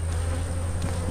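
Honey bees hum around an open, honey-bound hive during a beekeeper's inspection, a close, continuous drone with a steady low tone and faint crackles of movement.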